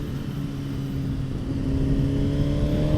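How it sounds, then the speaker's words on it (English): A 2020 Suzuki GSX-R1000 sport motorcycle engine idles then gradually rises in pitch as it revs up, a steady close mechanical drone growing slightly louder. "Look how much twist I can give before it starts revving that power up."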